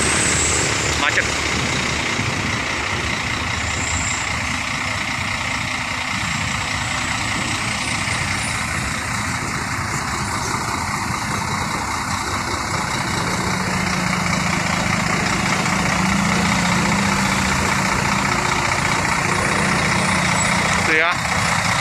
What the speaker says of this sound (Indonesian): Ini suasana di jalan lintas timur Jalan Soekarno-Hatta ya.